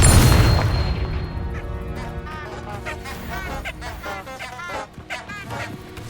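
The Confringo fire spell explodes in Hogwarts Legacy on Xbox Series X: a loud, sudden blast at the start that fades over several seconds into a wavering, warbling game sound.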